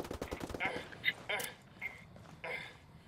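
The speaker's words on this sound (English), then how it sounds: "Under heavy fire." Rapid bursts of enemy gunfire from Ghost Recon Wildlands, heard quietly and at a distance as a quick string of cracks, with a voice speaking over part of it.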